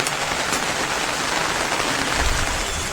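Rain falls during a downpour at the Kamalapur cattle market, a steady, dense hiss that fills the whole stretch at close range with no talking.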